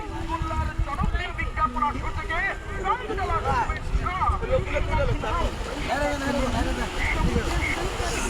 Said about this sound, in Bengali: দেখুন সাগরের ঢেউগুলো।